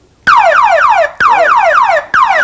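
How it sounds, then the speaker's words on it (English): A Code Alarm car security system in panic mode blares a loud, close electronic siren, repeated rapidly descending whoops in bursts of about a second separated by short gaps, with no voices. "Now to do the panic alarm, and this is a new feature for personal protection"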